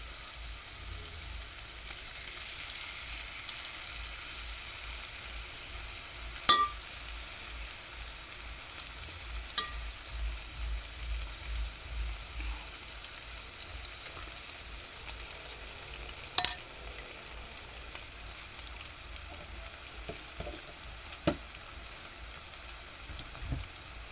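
Chickpea curry in a wet coconut gravy being stirred as it fries in a pan, giving a steady, faint sizzle with occasional sharp scrapes and knocks from the spoon.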